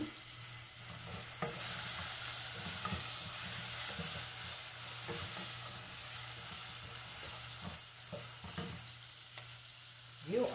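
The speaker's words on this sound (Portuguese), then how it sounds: "eu vou dando aqui uma fritadinha na calabresa" Calabresa sausage fries in a pan with a soft, steady sizzle and a low hum, broken by occasional spatters and pops and a louder crackle at the end, no voices.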